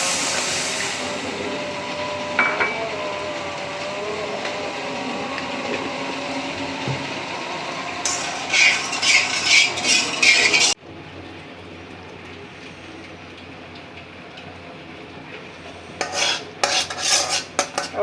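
Sugar with a little water caramelizes in a wok for pudding, giving a steady frying sizzle with bursts of metal spoon scraping and stirring against the pan, close and continuous.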